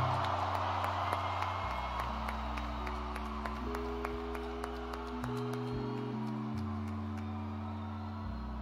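A festival crowd at a live Latin rock concert applauds and cheers in a sustained wash of clapping and shouts, while held musical tones from the stage ring underneath throughout.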